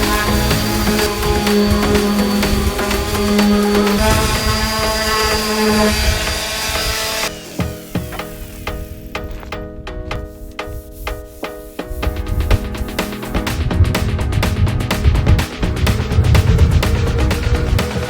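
320-grit sandpaper worked over the top side of a piece during a box-truck tiny house build gives a loud, continuous abrasive rasp and whir. It shifts in tone partway through and carries on without speech.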